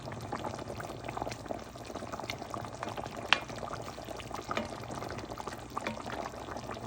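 Guyanese brown stew chicken with potatoes simmers in a pot as the sauce thickens, making a soft, continuous bubbling with faint pops and one brief sharper click.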